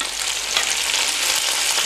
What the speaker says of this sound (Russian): И вот 5 минут мы жарим до серебристой корочки у грибов.